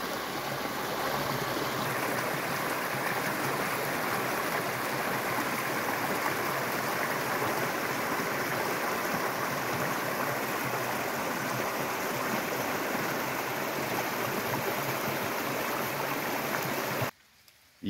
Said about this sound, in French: Et la petite rivière.